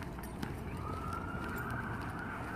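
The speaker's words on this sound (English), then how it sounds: "And as I say that, of course, there are sirens." Emergency vehicle sirens wail outside, a faint, distant rising tone behind room noise and low rumble, lasting the whole brief moment without speech.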